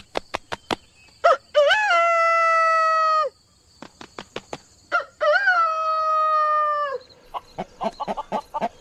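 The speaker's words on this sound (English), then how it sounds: "The rooster's main call is he makes a crow sound" A rooster crows twice in long, loud, harmonic calls, each one preceded by a rapid burst of sharp wing-flapping claps against his chest, with more flapping at the end.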